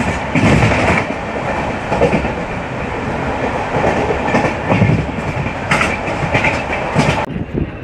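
The Durg–Visakhapatnam Vande Bharat Express runs on the rails as it nears Kothavalasa junction, a loud, continuous close rumble with rhythmic clickety-clack bursts of wheels over rail joints.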